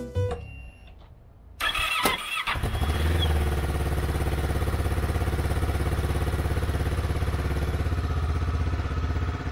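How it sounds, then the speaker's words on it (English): A Kawasaki Versys 650 motorcycle that has been starting poorly after getting wet, cranking briefly with a few sharp clicks, then firing and settling into a steady, close, throbbing idle, with no voices. "see if this thing starts a couple more times though, now that the bike has dried out."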